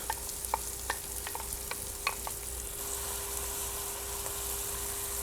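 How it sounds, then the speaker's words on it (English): Onion sautés in extra virgin olive oil for an okra beef stew, giving a steady, bright sizzling hiss with a few sharp stirring clicks and taps early on, close and alone. "we want to saute the onion first"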